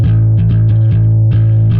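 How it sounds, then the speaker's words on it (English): Bass guitar part from a song, layered with a bass synth: thick, sustained low distorted notes with rhythmic plucked attacks, loud and close, playing alone without any voices. "So the bass guitar sounds like this,"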